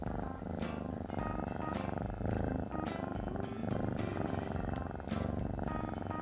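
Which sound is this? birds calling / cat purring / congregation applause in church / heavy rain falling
cat purring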